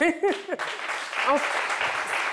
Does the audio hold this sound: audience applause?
yes